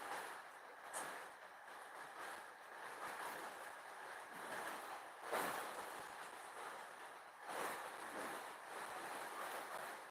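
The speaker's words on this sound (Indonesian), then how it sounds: "ini nampaknya mulai lagi cukup deras hujannya" Heavy rain falls at night in a steady wash of hiss and patter, with periodic swells of louder downpour, fairly soft and distant, no voices.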